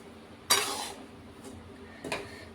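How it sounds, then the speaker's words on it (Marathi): Semolina toasting over a low flame in a pan is stirred with a utensil, producing two sharp scraping clinks against the metal over a faint background hiss. "गॅस आहे तो एकदम लो फ्लेमवरती रवा आपल्याला भाजून घ्यायचा आहे"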